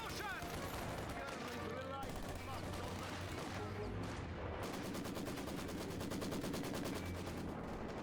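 Sturmgewehr assault rifle fire in a World War II video game, dense rapid bursts crackling continuously over other battle noise and distant explosions, with someone talking over it.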